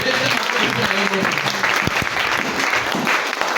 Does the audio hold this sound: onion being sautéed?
no